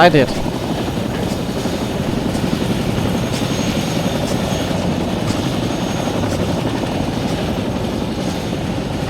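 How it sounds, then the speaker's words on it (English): A helicopter in the military game ArmA 3 droning loudly and steadily with a constant rotor thrum, close and continuous throughout, with voices over the radio. "Bravo, approaching helo from the southeast"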